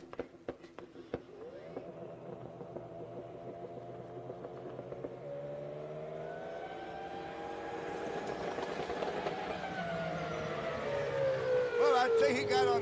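An IHRA Outlaw drag boat engine on a solo qualifying pass at the Paris Grand Prix, a sustained high-pitched engine whine that climbs steadily in pitch and loudness, heard alone after a few sharp pops.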